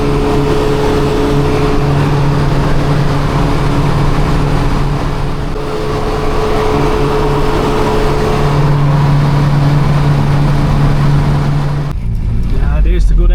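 Classic Mini car engine droning steadily while driving along the road, a constant loud hum with steady low tones throughout, shifting briefly near the end.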